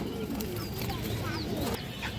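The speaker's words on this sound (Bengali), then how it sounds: "বুদাপেস্ট মাদি কবুতর এবং একটা পাকিস্তান টেডি কবুতর" Pakistani Teddy and Hungarian Budapest high flyer pigeons, female birds, call in faint, scattered coos and chirps over a steady background noise.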